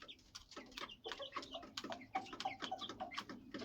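Isa Brown chickens cluck and chatter in a new coop, with a steady run of short, close calls overlapping through the whole stretch and no talking.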